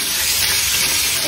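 Chicken meat cooking in a hot pan gives a loud, continuous, close sizzling hiss that stays steady without a break.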